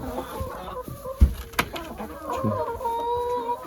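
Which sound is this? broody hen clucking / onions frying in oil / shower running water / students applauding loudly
broody hen clucking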